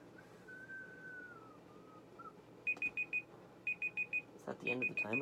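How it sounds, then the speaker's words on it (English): Timer alarm going off at the end of a 30-minute wait, a run of bright electronic beeps in quick groups of four, clear and fairly close, following a soft whistle and under quiet room noise. "Is that the end of the timer?"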